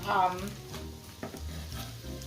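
Food sizzles steadily in a hot frying pan over moderate heat, a continuous crackling hiss with a few louder pops and a brief stirring scrape near the middle.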